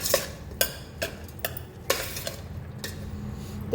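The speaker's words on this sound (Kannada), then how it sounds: "ಹಾಕ್ಕೊಂಡಾದ್ಮೇಲೆ ಈ ಥರ ಒಂದು ಮಿಕ್ಸ್ ಕೊಡ್ತಾ ಇದ್ದೀನಿ" Avarekalu and capsicum chitranna being mixed in a pan: a spoon clanks and scrapes against the metal in a series of sharp, close knocks, roughly one every half second, with no talking.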